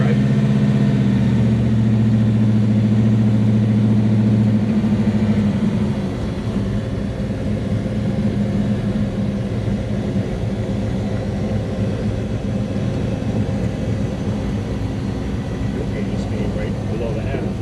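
A 1967 Chevelle drag car engine runs with a loud, deep rumble that drops to a steady lower drone after a few seconds, heard from inside the car.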